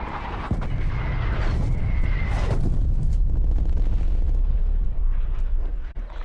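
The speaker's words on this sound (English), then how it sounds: "Artillery targeting detected. Artillery inbound." Artillery strike explosions in Call of Duty Cold War, several heavy booms and rumbling blasts in quick succession, loud and close, with a whistling descending tone early on and a lingering low roar afterward.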